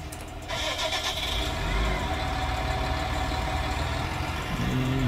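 A tractor engine in Farming Simulator 19 cranks and catches, then settles into a steady, moderately loud idle that holds to the end.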